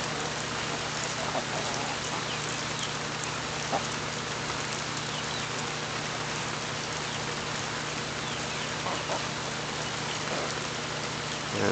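Steady rain falls throughout on a rainy day while chickens are being fed, a dense even hiss of drops hitting surfaces with a faint low engine-like hum underneath, close and continuous with no talking.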